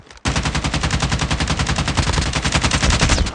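Call of Duty Mobile gunfire, a loud, steady stream of rapid automatic shots that starts abruptly and keeps a tight, even rhythm to the end, with no voices over it.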